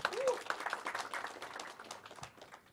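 Applause at a press conference for the Sai International Marathon in Shirdi, a quiet, somewhat distant clapping that tapers off, with voices murmuring over it.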